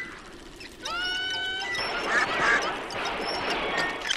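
In a video-game shooting gallery, a mechanical ratcheting clatter gives way to synthetic duck quacks and tones over a busy, moderate background hum.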